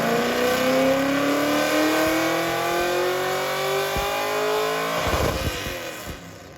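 Naturally aspirated LS V8 engine running on a dyno, a loud sustained roar rising steadily in pitch as it revs, then dropping and fading near the end, with no talk.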